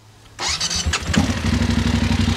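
A 2020 BMW F850 GSA motorcycle starts close by. A short starter whir catches, and the parallel-twin engine settles into a steady, throbbing idle.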